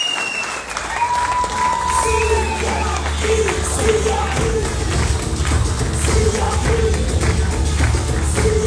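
A training-event audience for branch managers in Chennai claps loudly and continuously for the company CMD, a full, even burst of applause with faint tonal sounds and crowd murmur in the background.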